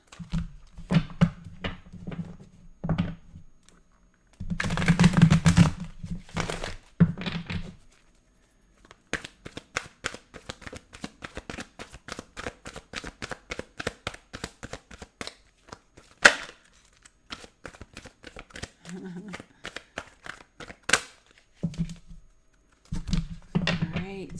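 A deck of tarot cards is shuffled up close in bursts of crisp riffling and rapid snapping flicks, with pauses between runs and occasional brief talking.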